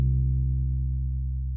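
A nylon bass one-shot sample plays as a single sustained low note, steady and clean, fading slightly over about a second and a half with no other sounds.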